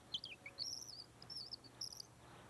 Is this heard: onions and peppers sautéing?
no